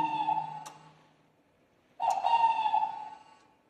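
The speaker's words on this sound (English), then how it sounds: "That's an owl." Owl hooting at night on Devil's Island, two separate long, steady hoots with a clear ringing tone, the second starting after a short silence, fairly close and alone with no talk.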